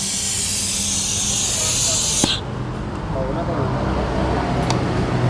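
Aerosol carbon deposit cleaner sprays onto an engine in a workshop with a loud, steady hiss that cuts off sharply after about two seconds, followed by quieter background noise and faint clicks.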